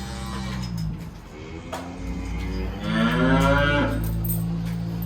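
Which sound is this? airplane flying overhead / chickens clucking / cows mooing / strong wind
cows mooing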